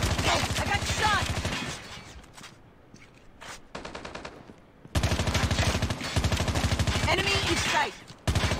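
Rapid automatic gunfire in a Call of Duty or PUBG shooter match, loud bursts of shots with a brief quieter gap in the middle, mixed with voices talking over the action.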